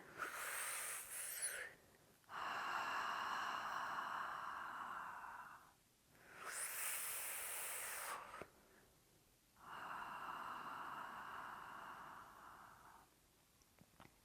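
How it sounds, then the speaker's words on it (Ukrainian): Meditation breathing with long exhales through the mouth carrying a whispered "ha", alternating with airy inhales, slow and close, repeated in several drawn-out cycles. "природнім чином у нас з рота починає появлятися такий шепіт зі звуком ха"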